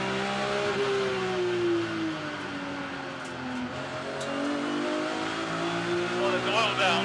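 BMW race cars of the Kumho BMW Championship accelerate away at Brands Hatch Indy, their engines whining up and shifting in overlapping rising tones, loud and sustained across the whole stretch.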